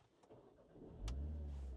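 A MINI car started with a phone used as the key: a soft electronic chime, then a low engine turning over and settling into a steady, loud idle close by, with no talking.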